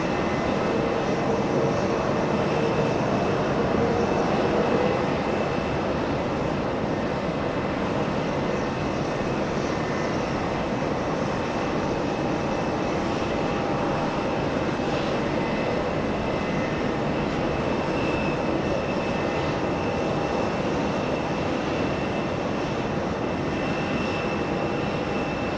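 Turkish Airlines jet airliner arriving at JFK from Istanbul, a steady broad engine roar that holds loud and unbroken throughout, with no talk.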